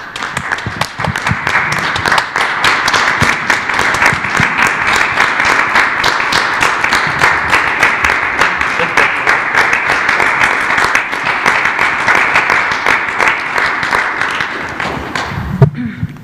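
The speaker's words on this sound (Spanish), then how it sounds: "damos un aplauso" Sustained audience applause fills a press conference hall at the National Palace, dense rapid clapping from many hands holding steady and loud for about fifteen seconds before tapering off at the end.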